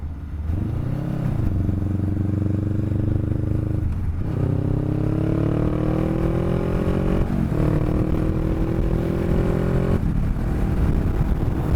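A 500cc motorcycle engine runs loud and close, with a throaty hum that rises as it revs, drops, then climbs again in a few steady pulls across the whole stretch.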